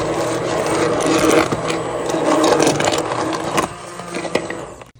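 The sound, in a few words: hand blender blending spinach for callaloo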